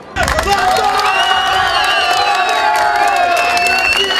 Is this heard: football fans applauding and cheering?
yes